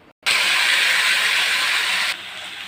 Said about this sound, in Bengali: এবার এই ম্যারিনেট করা চিকেনটা দিয়ে দেব।